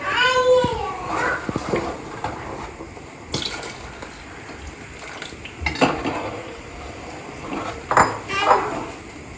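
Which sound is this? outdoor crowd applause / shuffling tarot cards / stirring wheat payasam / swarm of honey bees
stirring wheat payasam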